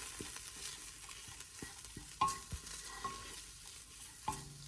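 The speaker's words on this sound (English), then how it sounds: "I mix them well so that they don't burn" A spoon stirs toasted spices into sofrito in a pan, giving repeated scraping knocks and clinks over a quiet, low sizzle, with no one talking.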